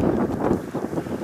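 Spring wind outdoors buffets the microphone with a steady low rumble throughout a brief moment.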